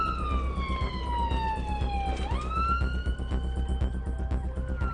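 An ambulance siren wailing on blue lights, a loud close sweeping tone that drops, then jumps and steadies, over the constant rumble of the moving vehicle.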